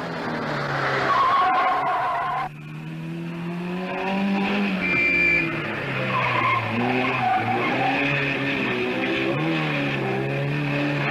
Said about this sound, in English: And Annie Swabo spun her Triumph.